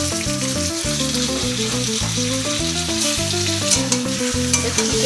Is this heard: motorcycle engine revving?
no